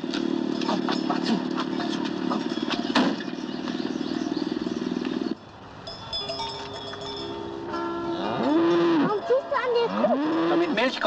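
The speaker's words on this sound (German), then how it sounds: "Nein, das sind Kuhglocken" Cowbells ring on grazing cattle, a steady metallic clanking that drops off partway through as cows moo and people talk nearby.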